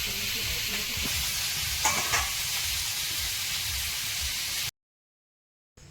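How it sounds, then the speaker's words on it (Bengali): River fish frying in oil in a pan at an outdoor picnic, a steady broad sizzle with a few brief clinks of stirring, then sudden silence near the end. "মাছ ভাজা চলছে"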